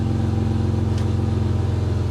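A Mitsubishi Diamante, bought for $400, creeps slowly in reverse with a steady, low engine hum close by and no change in pace for the whole stretch.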